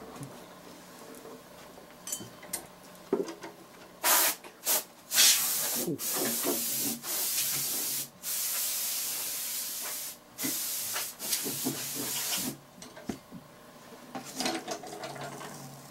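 Dust is blown out of an old guitar with repeated loud, breathy hissing bursts, some long and some short, close up, separated by brief quiet gaps with faint knocks.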